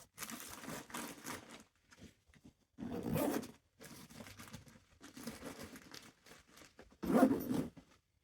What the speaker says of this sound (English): Nice heavy duty zips.